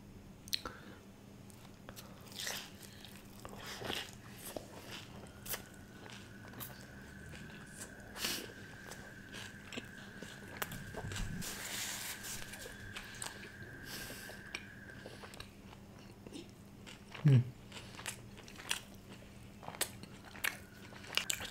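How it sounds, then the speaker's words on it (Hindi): Chicken tikka with garlic naan is eaten close to the mic, with soft bites and quiet chewing over a low background hum and an occasional faint voice. "तो भाई चिकन टिक्का ट्राई करते हैं गार्लिक नान के साथ"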